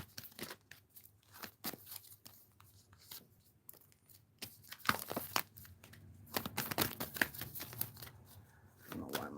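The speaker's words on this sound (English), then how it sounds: "One more shuffle and I'll pull from the top." Playing cards shuffled up close, with repeated crisp riffles and snapping flicks that grow busier and louder toward the end.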